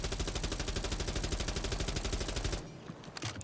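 Sustained rapid automatic gunfire from a gun in Rainbow Six Siege, a loud, even stream of shots for about two and a half seconds that stops abruptly, leaving a brief quieter tail with a few faint clicks.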